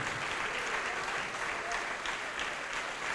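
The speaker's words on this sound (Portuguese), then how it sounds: "Dê uma salva de palmas" A church congregation applauds in a steady, dense wash of clapping that holds at an even level throughout, with no voice rising above it.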